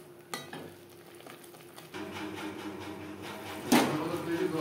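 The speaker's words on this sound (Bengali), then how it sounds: "মিডিয়াম টু লো ফ্লেমে গুঁড়ো মশলার সাথে মশলা বেশ ভালো করে কষিয়ে নেব" Ground spices sautéed over a medium-low flame for a Bengali doi mach (fish in yogurt) curry, heard as a quiet sizzle with occasional stirring and one sharp clink of utensil on pan near the end.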